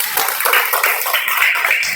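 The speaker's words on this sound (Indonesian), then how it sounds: "Tepuk tangan untuk semuanya" A classroom of fifth-grade students clapping together, a steady, dense patter of many hands lasting the whole moment, close and fairly loud.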